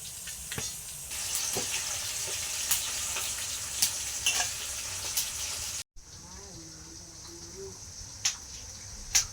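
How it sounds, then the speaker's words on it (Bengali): Potatoes fry in oil in a home kitchen during a Ranna Puja cooking day, giving a soft, continuous sizzle with scattered pops and brief talk partway through. "আর এখানে আলু ভাজাটা এখনো হচ্ছে"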